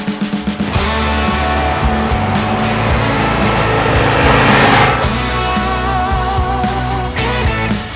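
A 2025 Harley-Davidson Breakout, a fat-tired Softail cruiser, rumbles and revs loudly and close throughout, its engine note swelling in the middle before settling, with no talk over it.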